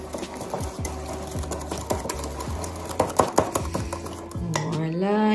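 Ingredients seasoned with salt and pepper being mixed for quick hot dogs, a run of quick rhythmic scraping and tapping strokes against a bowl, close and fairly loud, ending in a rising whir.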